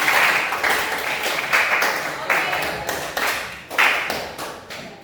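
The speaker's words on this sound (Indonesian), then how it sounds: "sekali lagi kita berikan aplaus untuk kita" An audience at a school session applauds with brisk, fairly close clapping that comes in repeated swells, each surge fading before the next across five seconds, without any talk over it.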